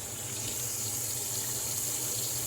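Tap water runs steadily into a sink while the face is wetted before a shave, a continuous close splashing flow with no speech.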